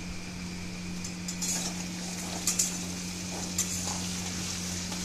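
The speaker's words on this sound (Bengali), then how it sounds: "আলুটাকে ভালো করে ভেজে নিয়ে তারপরে মাংস পেঁয়াজটা দেবো তেলের মধ্যে।" Jumbo potatoes frying in hot oil for a mutton curry, a steady sizzle with occasional light clinks of a spoon or utensil against the pan and a constant low hum underneath.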